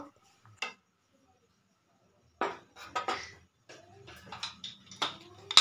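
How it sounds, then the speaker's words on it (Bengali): Ladle clinking and scraping in a pot while stirring turmeric and chilli powder, in sparse, irregular metallic taps with quiet gaps between them. "এরপর আমি এটাকে ভালো করে দেখো হাতা দিয়ে এটাকে ভালো করে নাড়াচাড়া করে নেব"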